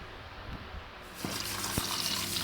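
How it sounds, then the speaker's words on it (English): Soaked oxtail being rinsed under fresh running tap water in a kitchen sink, a steady close gush of water that grows fuller partway through, with faint handling splashes and no talking. "Here I'm just rinsing the oxtail that was left to soak. I'm using some fresh water."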